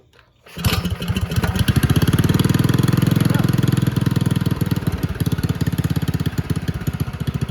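A cheap $90 minibike's small engine sputters to life after a quiet moment, then runs loud and steady with a rapid, buzzy putter, revving slightly before settling into a choppy idle.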